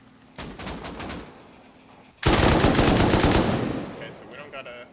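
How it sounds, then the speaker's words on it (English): Loud automatic gunfire in a raid video game, a quieter stuttering burst followed by a sudden, sustained close-range barrage that tails off, with faint talk in the background. "He's bolting in the base shooting at us."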